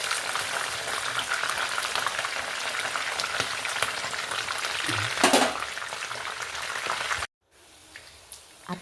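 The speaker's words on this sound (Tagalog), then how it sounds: "Balik-balik ka rin lang ang mga manok para pantay ang prito ng mga side." Oil sizzles and crackles steadily as plain chicken pieces fry until golden, with a brief clatter near the end before the sound drops to a quieter hiss.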